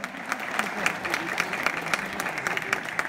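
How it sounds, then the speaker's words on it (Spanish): Steady applause from an audience at the Premios Grandeza Hispana awards ceremony, a dense continuous clapping wash that holds level for several seconds with murmuring voices beneath it. "un aplauso para Lupita Contreras, que es un amor, por favor"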